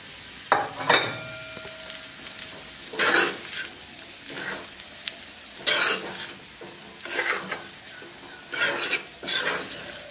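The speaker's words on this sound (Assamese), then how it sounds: "এনেকৈ 2 মিনিট মই তেতেলীখিনি ভাজি লম" Tamarind for a hot and sweet pickle is fried and stirred in a pan, with bursts of clattering spatula strokes against the metal pan over a low sizzle, several separate stirring spells close by and no voices.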